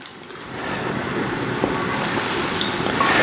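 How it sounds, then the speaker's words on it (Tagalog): Water poured steadily into a pot of pork spare ribs, a continuous broad rushing splash that builds slightly louder toward the end, close by with no talking. "ilalagay ko na yung lahat ng tubig ko dito"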